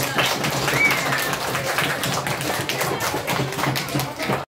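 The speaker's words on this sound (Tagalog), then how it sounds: "bigyan nga natin ang isang masigabong palakpakan ng Rotary Club" An audience claps for the Rotary Club at a school event, a dense and fairly loud round of applause that goes on throughout and then stops abruptly.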